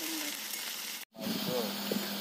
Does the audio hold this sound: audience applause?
no